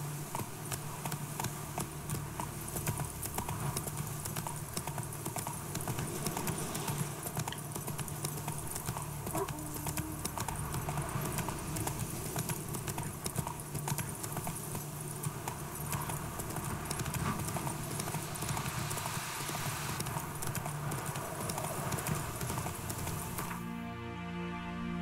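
Roach the horse trotting in The Witcher 3 with steady, continuous clip-clop hoofbeats at close range, layered over a dense game soundscape of music and ambience, with the sound cutting off right at the end.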